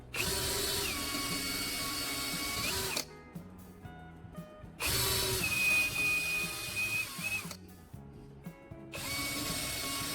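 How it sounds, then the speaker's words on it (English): A power drill whines as it bores holes into wood for a caster wheel in two long bursts, with quiet pauses of clicks and handling noise between them. "Now, I'm using my drill to make precise holes in the marked spots on the wood"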